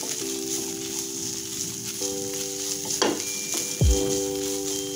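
Chicken filling being stirred together with onions in a frying pan, giving a faint sizzle and occasional spatula scrapes and knocks, with no speech.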